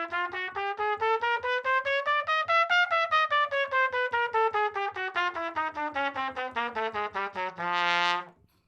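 A trumpet plays a G chromatic scale over two octaves, forte and tongued, each note cleanly articulated in an even rhythm, rising then descending, ending on a held note, with no talking.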